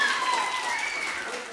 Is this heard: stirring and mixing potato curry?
no